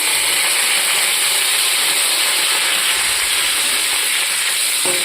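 Cumin seeds, bay leaf and dried chilli sizzling in hot oil for a chirer polao tempering, a steady loud broadband hiss and crackle that runs continuously without a break.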